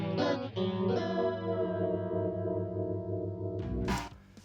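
Distorted electric guitar intro with effects, a rich sustained chord ringing out with chorus and echo, fading slowly before a brief scratchy noise at the end, played alone without voices.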